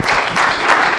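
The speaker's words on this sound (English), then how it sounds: "Please let's clap for them." Audience applause at a talk or panel session, a steady dense wash of clapping filling the whole short moment, close and even.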